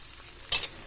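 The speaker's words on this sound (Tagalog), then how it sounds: "Nilagay ko na ang sibuyas. Mix ko na guys ang kamatis." Onion and tomato are stirred into a pan still greasy from frying ham, giving a short burst of sizzling as the spatula moves through, against quiet surroundings.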